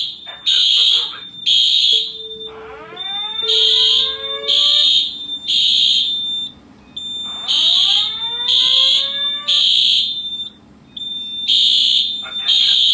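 A Simplex fire alarm system under test sounds loudly and continuously with repeated pulsing horn tones, broken twice by a rising electronic whoop sweep. Voices are audible beneath the alarm.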